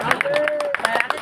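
Several people clap in welcome at a wedding, a loose run of sharp, fairly close claps with a steady tone and voices talking over them.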